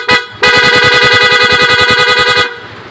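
A PIAA car horn sounding on a vehicle, a short toot followed by a loud, sustained, rapidly pulsing blast of about two seconds, then an abrupt cutoff.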